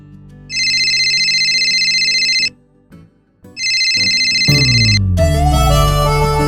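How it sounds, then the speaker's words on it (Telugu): A phone ringtone sounds loud and close in two bursts of steady electronic tones, each about two seconds long with a short gap between, followed by a busier musical ringtone passage. "సరే, మిస్ కాల్ ఇద్దాం."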